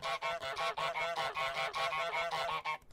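Rapid repeated goose honks from Untitled Goose Game, about a dozen loud, nasal cartoonish calls in quick succession, close and unbroken, stopping abruptly at the end.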